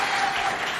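A brief, dense burst of audience applause at a school quiz contest, steady and fairly loud across its whole short span.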